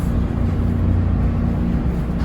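MARC commuter train departing Washington DC toward Baltimore, heard from inside a single-deck car: a steady low rumble and broadband roar of the train getting under way, continuous with no talking.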